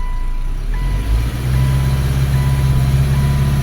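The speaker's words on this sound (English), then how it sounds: "It's actually stumbling and misfiring." A 2013 Subaru Impreza engine held under load in reverse with the handbrake up, a loud low idle rumble that dips and stumbles briefly before settling into a rough, uneven drone with faint beeping.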